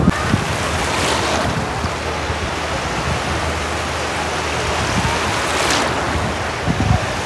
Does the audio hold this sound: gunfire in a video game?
no